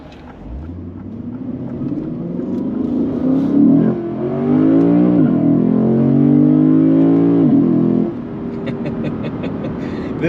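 A Lexus V8 of almost 500 horsepower revs up and accelerates through several gear changes, a loud rising engine note heard from inside the car, dropping at each shift before easing off.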